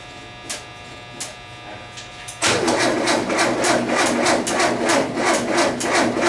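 An old Volkswagen engine due for an overhaul catches partway through and runs on throttle with a loud, rapid, buzzy idle, after a few faint clicks over a quiet hum.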